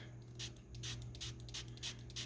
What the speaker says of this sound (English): And spray this with water.